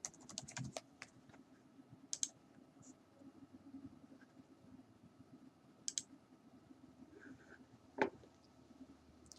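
Keys clatter on a computer keyboard as a raster file name is typed, quiet scattered clicks in short bursts over a low hum, with no talking.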